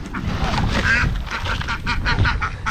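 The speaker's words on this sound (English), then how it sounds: "feed the turkeys and ducks" Ducks and turkeys being fed, a dense flock chorus of honking, quacking fowl calls close by and continuous, with a voice briefly mixed in.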